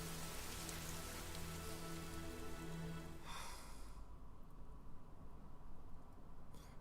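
Steady rain falls in the Fire Emblem video game, a continuous hiss of drops on a surface at an even level, with a low musical drone underneath for the first few seconds before only the rain remains.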